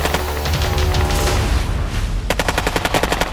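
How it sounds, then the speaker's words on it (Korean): Loud, rapid bursts of submachine gun fire in a night firefight in front of the Blue House in Seoul in 1968, with crackling shots and booms rolling together, then sharper repeated reports toward the end. "총소리 같은데?"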